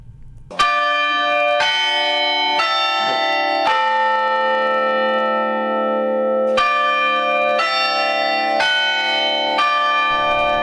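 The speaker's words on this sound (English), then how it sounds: "This is the sound of the Floyd and Juanita Smith Carillon bells." Large carillon tower bells ring out loud and resonant, a sequence of struck notes with long sustained tones blending together, outdoors on a college campus with no talking.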